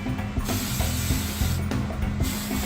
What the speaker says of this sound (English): There's the spray paint in Lance's hand.